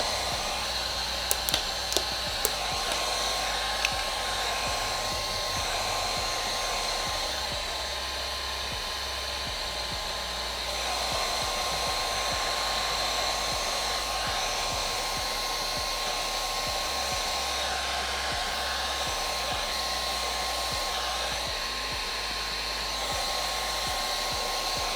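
A heat gun blows steadily while warming rose gold chrome vinyl wrap on a Lexus IS F door, making an even, continuous whirring hiss that runs the whole time, with a few faint clicks near the start.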